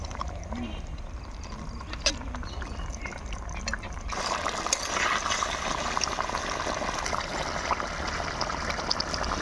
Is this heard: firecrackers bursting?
no